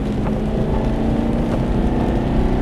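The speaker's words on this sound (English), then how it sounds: "Keep on the gas right the way out." An Aston Martin accelerates on track with the throttle held open, giving a steady, loud engine drone from inside the car mixed with wind rush and no pause or shift.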